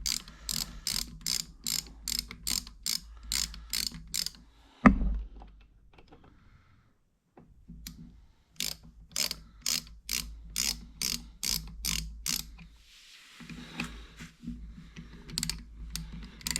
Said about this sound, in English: These bolts are coming off.